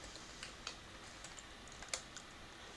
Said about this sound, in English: please type in your old password